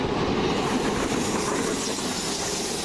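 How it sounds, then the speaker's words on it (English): A fast train runs through East Croydon station without stopping, a loud, steady rush of wheels and carriage noise with rail clatter filling the whole stretch, close by on the platform edge. "The approaching train does not stop at this station. Fast train approaching."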